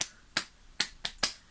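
Five sharp, close hand claps in an uneven rhythm, each a crisp isolated smack with quiet gaps between them, and no voices.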